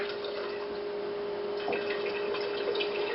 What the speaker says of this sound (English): we're going to fill up my pitcher with water.